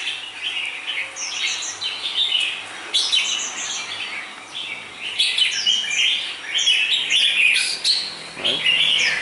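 A red-whiskered bulbul sings bright, repeated chirping phrases close by, in short bursts over a soft background hiss, with no talking.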